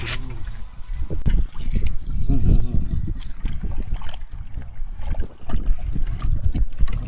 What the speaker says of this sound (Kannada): ಇದೇ ನೀರು ಹಾಕುವ.